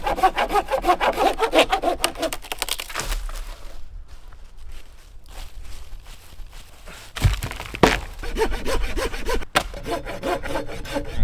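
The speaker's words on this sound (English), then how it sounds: "I need to cut more firewood to keep the fire going." Handsaw cutting firewood at a winter bushcraft camp in heavy rain, with rapid rhythmic rasping strokes close by, a pause with a few wooden knocks and thunks, then the sawing resumes briskly.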